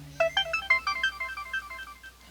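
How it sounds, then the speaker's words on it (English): A phone ringtone plays a quick run of bright, bell-like melodic notes, fairly loud and steady, over low game background music with no talking. "Oh, that was my phone."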